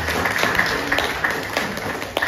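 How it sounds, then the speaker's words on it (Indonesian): An audience applauds during a speech at a book launch, with moderately dense clapping and distinct individual claps standing out, continuing steadily at close range. "Tepuk tangan, tepuk tangan."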